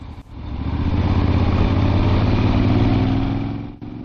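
An old Moto Guzzi motorcycle cruises along leafy country back roads, its engine droning steadily and loud for several seconds, the hum swelling and then easing near the end.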